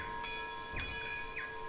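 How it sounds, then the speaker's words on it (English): Locomotive bell on a British steam engine in the Rolling Line model railway game, ringing in a few soft, evenly spaced strokes over a steady mechanical hum, fairly faint. "Working bell animation."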